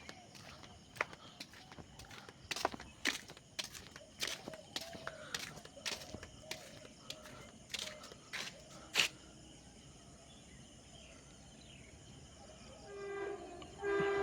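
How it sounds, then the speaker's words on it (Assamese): A train pulling into a railway station: faint, sharp rhythmic clacks come and go in an irregular beat under a low hum, and a broader rumble swells near the end. "এতিয়া চাওক ট্ৰেইন আহি আছে।"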